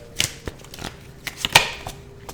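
Tarot cards being handled and laid out, with several crisp snaps and soft shuffling slides, close up and fairly quiet, no talking.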